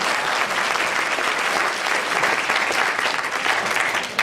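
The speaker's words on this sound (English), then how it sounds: "We can keep clapping for Jim." Loud, dense clapping from a large audience at an evening event honoring a leader, continuous and close, filling the whole stretch without a break.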